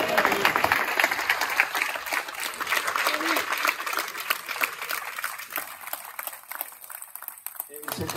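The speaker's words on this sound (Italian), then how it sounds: "gli applausi stasera si sprecano" Dense clapping from a crowd at the opening ceremony of the Italian 3D archery championships continues throughout, loud and sustained, with a voice speaking over it at times.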